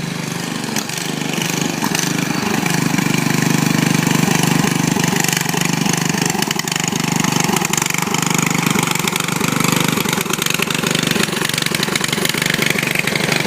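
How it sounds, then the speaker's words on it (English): A riding mower's engine runs loud and steady for the whole stretch, a close, continuous mid-pitched drone with a slight rhythmic pulse and no talking over it. "Okay, we know this motor runs now, and the clutch tranny thingy works."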